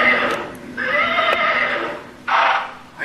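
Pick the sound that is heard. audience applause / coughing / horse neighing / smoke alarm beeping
horse neighing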